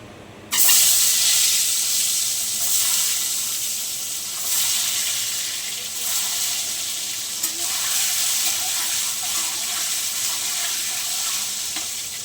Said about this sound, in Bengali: ডিমটা ভেজে নেবো সুন্দর করে।